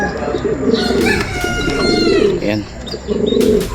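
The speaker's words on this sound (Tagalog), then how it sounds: "So ayan, ito yung ibon." Pigeon coos under someone speaking Tagalog, with other birds chirping faintly, at a racing-pigeon loft; the cooing repeats steadily beneath the talk throughout.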